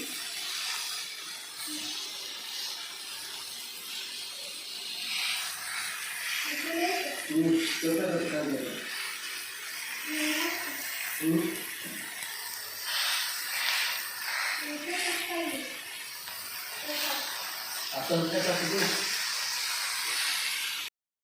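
Fish pieces frying in a pan in a home kitchen, the last batch of a Konkan-style fish fry, give off a steady broad sizzle and hiss throughout, while someone talks over it at intervals.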